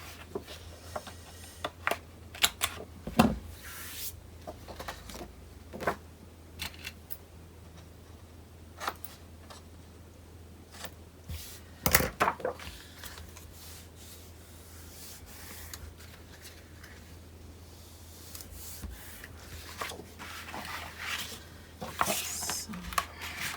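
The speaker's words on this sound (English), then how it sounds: "I will round my corners." Paper corners are rounded with a handheld corner punch in a quiet room, giving a scatter of short, sharp clicks and crunches between soft rubbing and handling noises over a low steady hum.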